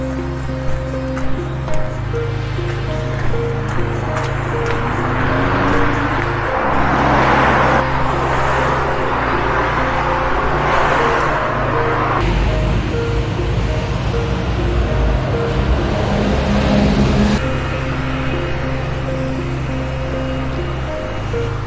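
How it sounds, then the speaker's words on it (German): Steady road traffic along a main road, with cars and heavier vehicles rumbling past close by in a continuous, loud low drone that swells as individual vehicles pass, heard outdoors with no talking. "Leider gleich erstmal an der Hauptstraße vorbei."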